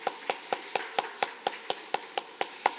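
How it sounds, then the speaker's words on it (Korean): A seminar audience clapping together in a steady, even rhythm, about four claps per second, crisp and moderately close, with no talking. "우리 다 함께 박수 한번 할까요?"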